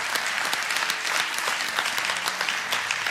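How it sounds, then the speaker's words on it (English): A church congregation claps during a Sunday morning service, a continuous even patter of many hands at moderate distance, steady throughout with no voices over it. "Let's give Jesus a big hand clap this morning."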